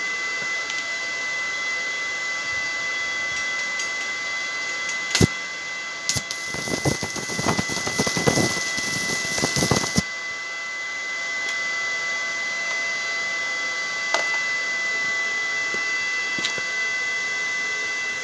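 A Parkside welding machine hums steadily while welding. A dense, loud crackling burst runs for a few seconds in the middle, with a couple of sharp isolated pops before and after.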